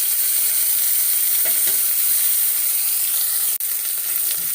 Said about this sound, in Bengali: এই মাছ খুব নরম হয় আস্তে আস্তে ভাজতে হবে